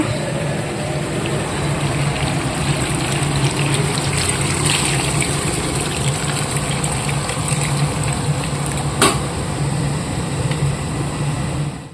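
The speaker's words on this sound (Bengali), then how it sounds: "এদিকে জলটা গরম হয়ে গেছে, মাংসের মধ্যে দিয়ে দেবো।" Hot water pours into a pot of braised meat in a Bengali home kitchen, a steady close gush and trickle over a low hum, with a brief clink near the end.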